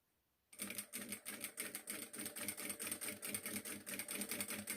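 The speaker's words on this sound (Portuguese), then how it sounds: "agora eu faço uma costura bem na beiradinha" A sewing machine runs a steady, fast stitching burst along the edge of a cloth diaper, starting abruptly after a moment of quiet and continuing with a close, even mechanical rhythm, no voices.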